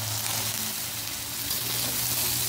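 Sweet zarda rice being mixed with sugar in a pan over a high flame, giving a continuous close sizzle with soft stirring scrapes.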